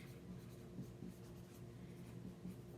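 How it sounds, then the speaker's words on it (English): A pen scratches faintly across the back of a craft project in a quiet room, with short, soft strokes repeating over a few seconds. "I'm going to write on the back."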